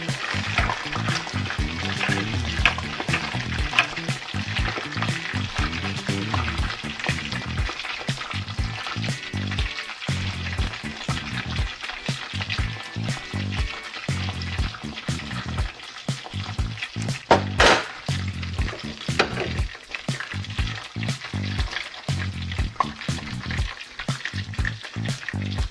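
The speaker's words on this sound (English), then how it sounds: "You want to get it golden brown" Tempura shrimp deep fry in hot oil with a dense, continuous sizzle and crackle, close and steady throughout, broken by occasional brief pops and stirring clicks.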